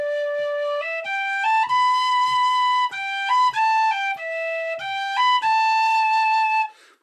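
A low whistle plays Margret's Waltz at a moderate tempo, clear sustained notes stepping through the melody with brief breath gaps between phrases, played solo and close.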